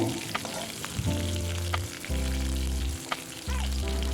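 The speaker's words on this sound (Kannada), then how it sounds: "ಬೆಳ್ಳುಳ್ಳಿ ಒಂದು ಎರಡು ನಿಮಿಷ ಫ್ರೈ ಆಗಬೇಕು ಮೀಡಿಯಮ್ ಫ್ಲೇಮ್ನಲ್ಲೇ" Crushed garlic frying in oil over medium flame for garlic rice, a loud continuous close sizzle with bursts of spoon scraping and stirring, no talking.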